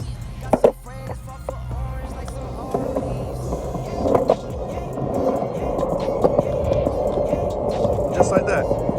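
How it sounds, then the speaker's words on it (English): Skateboard wheels roll steadily over pavement as a rider cruises and turns, with a constant gritty rumble and a few sharper clacks from the board, under talk from the rider. "get used to just riding around on your board and you'll be all right."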